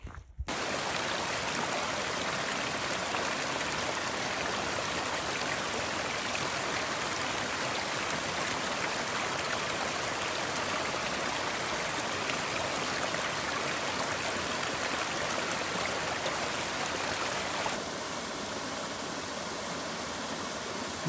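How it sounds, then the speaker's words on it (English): Small waterfalls beside a mountain trail in the High Peaks near Asheville give a constant, close rushing wash, loud and unbroken, easing slightly in the final few seconds. "I'm passing on a lot of these nice little waterfalls."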